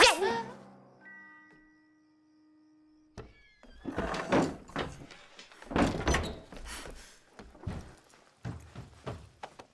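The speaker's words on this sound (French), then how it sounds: "j'ouvre la porte" A door is opened in a 2019 film: a soft thunk sounds after a fading tone and a near-silent pause. Busy rustling, movement and what seem to be voices follow.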